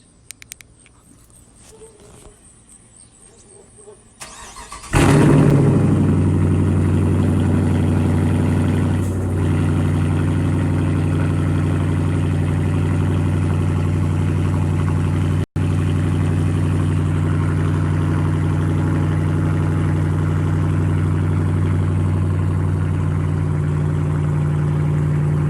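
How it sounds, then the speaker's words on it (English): A 2019 Dodge Challenger R/T cold-starts with a sudden loud crank and roar after a few quiet seconds, then settles into a steady, deep, loud idle that continues to the end. "that's my 2019 Challenger RT cold start."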